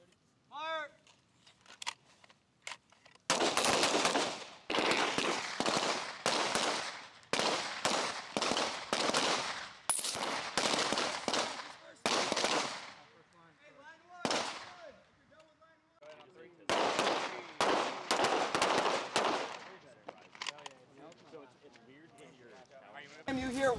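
Rapid gunfire from several shooters at a military tactical training range, loud sharp reports in quick bursts and clusters with brief pauses, a voice calling commands in the gaps.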